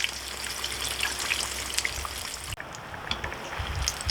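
A chimichanga deep fries in hot oil with a steady, close bubbling crackle and spattering pops, briefly dipping before the sizzle resumes.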